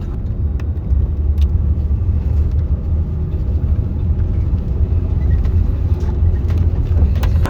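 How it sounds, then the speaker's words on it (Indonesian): Steady low rumble inside a moving PO Haryanto Mercedes-Benz 1626 sleeper bus on the route to Sumenep, Madura, with continuous engine and road drone, occasional faint rattles and knocks, no talking. "sekarang udah berada di dalam bus sleeper PO Haryanto dengan rute Polres menuju ke Sumeneb, Madura"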